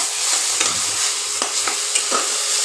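Spice paste of ginger, garlic and chilli with salt and turmeric frying in a little oil for egg curry, a loud close sizzle broken by several quick spatula scrapes and stirs.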